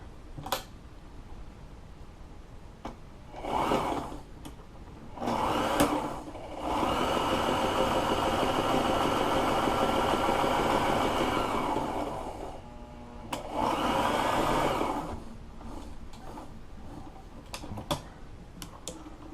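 A home sewing machine stitches and feeds quilted fabric in bursts, one long continuous whirring run between shorter bursts, with faint clicks and handling in the quiet gaps; no talking.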